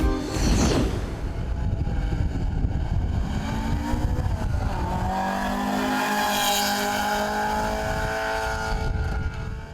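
A race car climbs the Caramulo hill climb, its engine roaring continuously and close as the revs rise and fall through gear changes, with a brief squeal of tyres.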